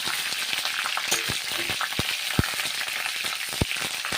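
Cauliflower florets deep-frying until reddish-brown in mustard oil in a pan, a steady dense sizzle with sharp spatula clicks and stirring knocks scattered throughout.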